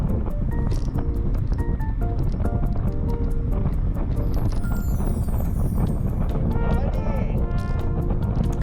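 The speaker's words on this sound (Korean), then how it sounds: "바람 소리 들리시나요?" Steady wind noise buffets the microphone while cycling uphill into a constant headwind on a riverside bike path, with someone speaking over it.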